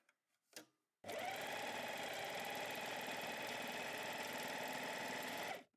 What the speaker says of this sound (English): Put the presser foot back down and we continue sewing.